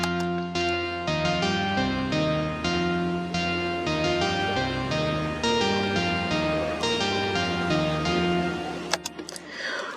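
A bright synth melody built in FL Studio, a song remake, plays in continuous stepped notes over a full, loud mix for the whole stretch, ending with a few clicks.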